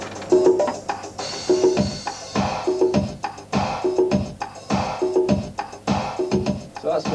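A looped 1990 remix drum groove with compressed bass drum, snare, clap, hi-hats, congas and straight sixteenth-note tambourine, dense and driving at a steady tempo, loud with no voices.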